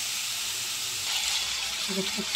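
Goat meat frying in a pan with green chillies gives a steady, fairly quiet hiss and sizzle that holds evenly throughout, with a few soft pops near the end.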